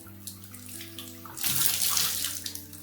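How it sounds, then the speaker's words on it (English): A sponge is wet under a running faucet while cleaning a surface treated with a Pine Glo and vinegar mix; a quiet hum gives way to a loud, steady gush of tap water, close by with no talk. "just use a sponge and just wet it"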